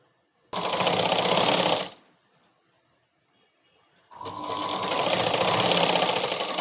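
A sewing machine stitches baby frock cloth in two loud, steady bursts of rapid whirring. The first is short and the second longer, with a quiet pause between them.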